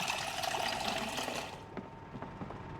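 A water bottle fills in the video game Project Zomboid, a steady gush of pouring water for about a second and a half, then thinning into quieter trickles and drips.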